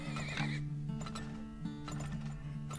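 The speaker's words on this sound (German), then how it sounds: "Packen hier noch mehr Pferdchen hin." Horses in the Turmoil video game whinny and neigh several times over steady hoof clip-clop, with game music droning underneath.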